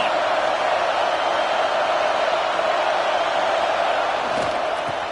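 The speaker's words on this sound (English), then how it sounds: "Here comes the noise from this big crowd in Happy Valley on third down." Dense, steady roar from a big college football stadium crowd in Happy Valley on third down, loud and continuous throughout with no clear breaks.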